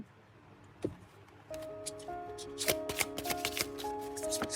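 Tarot cards shuffled by hand at close range: a brief riffle, then a dense, crisp run of rapid flapping and sliding card sounds that grows steadily louder.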